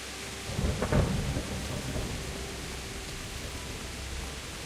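Thunder rolls through a steady rainstorm in Kingdom Come: Deliverance, one low rumbling crack near the start fading into a constant hiss of rain.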